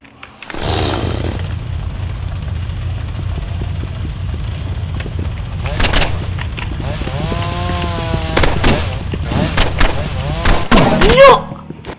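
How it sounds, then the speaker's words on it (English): A chainsaw in the video game Rivals drones steadily and loudly throughout, with revving swells, mechanical rattles and a few sharp game effects near the end. "Cause I got a chainsaw."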